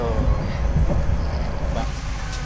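A KA Mataram locomotive and train rumble past at close range, a loud, steady low-frequency roar of wheels and engine with faint rail squeal, no voices over it.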